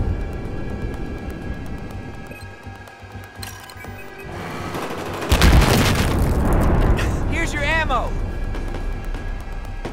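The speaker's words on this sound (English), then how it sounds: "Tank is getting C4'd right now." A C4 charge blows up a tank in Battlefield 4, a single loud close boom halfway through that leaves a long, noisy rumbling tail, heard over game ambience with a chirping effect following.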